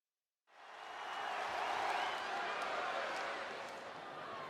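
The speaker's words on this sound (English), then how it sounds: "I can barely hear you, Michael. That's how loud this crowd is right now." Loud WWE wrestling arena crowd cheering, a broad roaring wash of noise that swells in quickly after a brief silence and holds steady.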